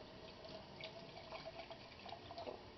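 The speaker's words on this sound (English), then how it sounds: "rinse it out really good so you get all the soap out of there" Tap water runs steadily while a baby bottle is rinsed out in a sink, a close continuous splashing flow with small drips and clinks, no talking over it.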